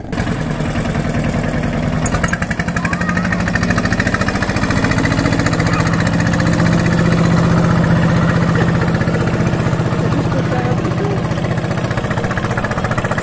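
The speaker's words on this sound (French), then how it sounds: "C'est des barques qui sont super profilées et qui vont super vite." A loud, steady engine drones throughout with a rough, rattling pulse, close and continuous, like a fast, streamlined racing rowboat-style motorboat running at full throttle.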